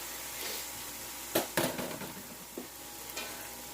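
Fajita meat sizzles in a pan with a steady, soft frying hiss, broken by a few sharp scrapes and clatters as it is tossed and turned.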